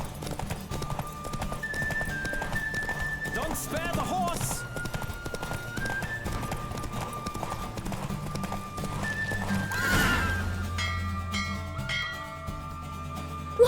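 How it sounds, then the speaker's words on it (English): A horse gallops with steady clip-clopping hooves and neighs in the video game The Witcher 3, the hoofbeats running throughout under shouted voices and background game sounds. "Don't spare the horse!"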